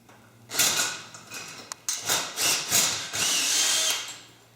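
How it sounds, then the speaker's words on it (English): A power drill bites in with surging, grinding bursts, revving up and easing off several times as it bores a bolt hole through a frame section, close and loud. "you're going to drill a hole"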